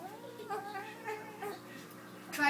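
A cat meows in a few short, drawn-out wails, faint and close, with a brief louder rise at the end.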